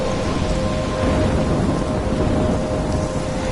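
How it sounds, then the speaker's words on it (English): Steady heavy rain with rumbling thunder in the video game Life is Strange, a dense, loud storm wash that fills the whole clip with no talk over it. "I'm trapped in a storm?"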